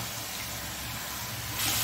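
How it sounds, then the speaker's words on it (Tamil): A little water poured into a pan of sautéing carrots and capsicum with salt, a steady soft splashing wash that swells louder near the end. "கொஞ்சோண்டு தண்ணி போடணுங்க."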